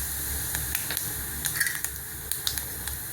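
Fennel powder and garam masala sizzle in hot oil in a pan for a spicy gravy, a steady close frying hiss broken by small clinks and scrapes of a stirring spoon.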